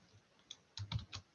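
A computer keyboard being typed on while a spreadsheet formula is entered, a few quick close clicks clustered in a short burst with quiet pauses between.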